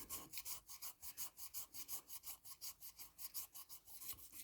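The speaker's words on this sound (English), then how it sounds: "So now with the 600, we'll start again. I like to sort of turn it over and start to sand." Milliput filler on a chipped ceramic or porcelain piece being sanded with 600 grit sandpaper: fast, even back-and-forth rasping strokes, around four per second, close up and quiet, with no voices.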